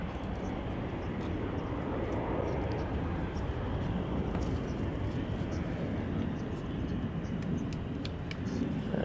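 Loganair airplane engines spooling up on the active runway at Manchester Airport, a steady broad distant roar that holds constant throughout, heard from outside at a distance.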